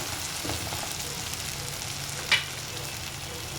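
Ingredients for mutton curry roast in a pan with a steady soft sizzle and crackle throughout, nearby and fairly quiet, with one brief sharper clatter.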